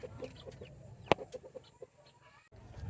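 Backyard chickens cluck in a soft, quick series of short calls close by, with one sharp knock and faint rustling in a quiet setting.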